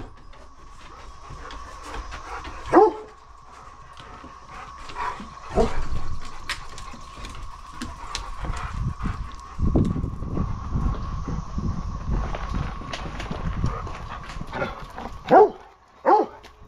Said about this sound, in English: Do we have some dogs that want to go for a ride?